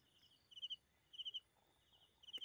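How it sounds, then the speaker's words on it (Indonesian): Crickets chirp at two in the morning, giving faint, high, rapid pulsed trills in short repeating bursts over a quiet nighttime background. "Suara jangkrik dan burung malam."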